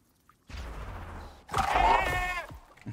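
A goat in the open-world survival game Icarus lets out one loud, wavering bleat lasting about a second. It follows a stretch of rough, noisy game sound.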